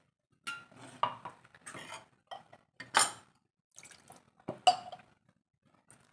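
Water is poured into a blender jar and swished around to rinse it, with irregular nearby clinks, sloshes and splashes in short bursts separated by quiet gaps.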